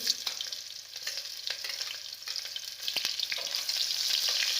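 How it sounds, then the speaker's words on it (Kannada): Onions frying in a pan with cumin, cinnamon and curry leaves for dal khichdi give a steady, close sizzling hiss with scattered crackles and pops, growing slightly louder toward the end, with no voices. "ಈರುಳ್ಳಿ ಹಾಕಿದ ತಕ್ಷಣ ಸ್ವಲ್ಪ ಬೆಳ್ಳುಳ್ಳಿ ಕಟ್ ಮಾಡೋದು ಬೆಳ್ಳುಳ್ಳಿ ಕಟ್ ಮಾಡೋದು ಶುಂಠಿ ಎರಡು ಹಾಕಿ ಸ್ವಲ್ಪ ಫ್ರೈ ಮಾಡಿ ಚೆನ್ನಾಗಿ"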